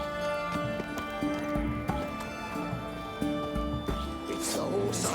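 A horse in The Witcher 3 video game clops along with hoof beats and a brief whinny, set against game music and ambient tones, fairly close and steady throughout.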